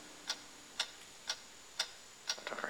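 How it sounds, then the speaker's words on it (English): Regular ticking like a clock, about two ticks per second, faint and close in a quiet room, with a few quicker soft clicks at the end. "What is that mysterious ticking noise?"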